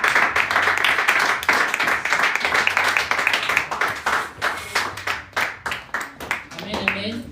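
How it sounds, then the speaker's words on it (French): A church congregation claps and applauds loudly and steadily for several seconds, with voices and worship sounds running beneath the applause as it continues. "Acclame très fort."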